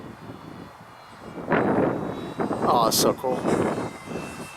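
A ParkZone Artizan RC plane flies at full throttle, its electric motor buzzing and whining as it passes, rising and falling in pitch, while people talk excitedly over it.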